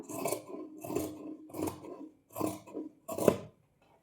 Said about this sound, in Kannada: ಇವಾಗ ಇದು ಕ್ರಾಸಾಗೇ ಕಟ್ ಮಾಡೋಣ